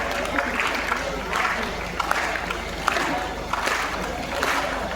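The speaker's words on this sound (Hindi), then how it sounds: "नहीं ताली भी बजा रही है" Audience clapping at a comedy poetry fair, a rhythmic rolling applause from a crowd with cheering voices mixed in, steady throughout.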